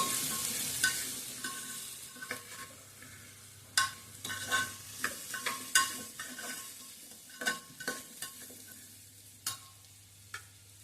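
A spoon stirs red pumpkin curry with added spices in a frying pan, giving repeated scraping clinks over a soft steady sizzle, close and fairly quiet, with no voices.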